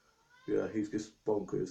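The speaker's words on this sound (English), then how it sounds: "Sorry if you can hear my cat meowing" A pet cat meows in a few short bursts close by, mixed with a person talking at the same moment.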